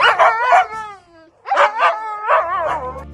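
Huskies in outdoor enclosures howl and yip together in a loud, close chorus of rising and falling wails, with a short pause partway through.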